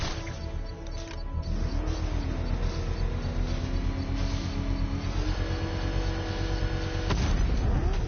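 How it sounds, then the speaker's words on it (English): A controlled bomb explosion in the video game Batman Arkham Knight, a loud, sustained roar of blast and rumbling machinery filling the clip, with a swelling burst near the end. "I can use the power winch to trigger a controlled explosion."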